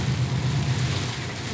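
Rain drums on a car in motion on a road near Ventania, Paraná, with a steady hiss over a low engine and road rumble and a voice speaking at times.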